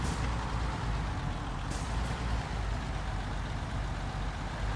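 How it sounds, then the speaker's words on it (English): A heavy-duty truck drives in Construction Simulator, its engine a low, steady rumble. A brief hiss like an air brake cuts through midway, and nobody speaks. "we're driving a truck once again. Heavy duty once again"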